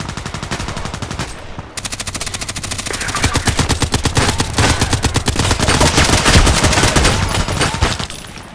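AK-12 assault rifle fired in the Contract Wars shooter game, rapid sustained automatic bursts, loud and close, running almost continuously with only a brief gap.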